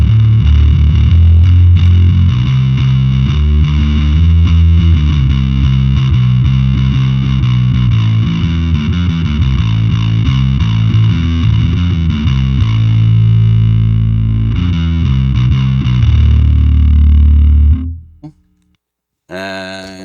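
An electric guitar played through a fuzz pedal into an amp modeler with an 8x10 cab setting chugs heavy, thick low riffs with dense distortion, loud and steady before cutting out abruptly near the end.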